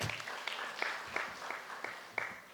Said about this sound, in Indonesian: Kita beri aplaus dulu buat para UMKM kita.